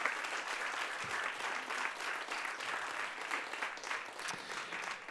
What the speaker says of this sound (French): Encore un tonnerre d'applaudissements pour nos intervenantes et intervenants.